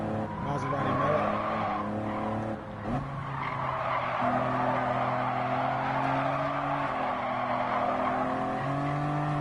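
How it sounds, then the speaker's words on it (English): A racing car screeching its tires through a turn in a racing game, a long steady squeal over the droning engine, close and loud, with a brief dip in the middle and a voice talking over it. "Tires are squealing."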